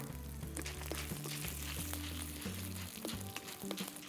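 Dried red chillies sizzle in hot oil in a kadai with the gas turned off, a soft steady frying hiss with occasional stirring clinks, fairly quiet and close.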